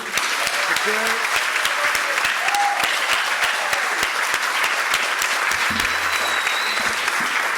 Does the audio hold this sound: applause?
yes